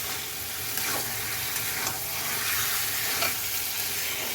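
Tomato chicken masala sizzles steadily in a pan while being stirred, a dense continuous frying hiss with soft scraping strokes, close and fairly quiet, no voices.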